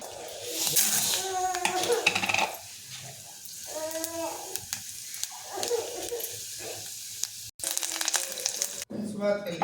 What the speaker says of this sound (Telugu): తాలింపు